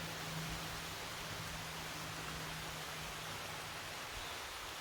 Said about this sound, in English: With this amazing creek.